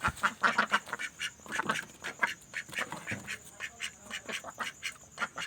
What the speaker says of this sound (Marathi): ही आपली ती 3 बदकं.